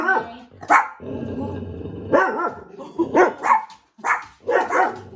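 A dog barks and growls close by in a series of short, irregular bursts with brief pauses between them.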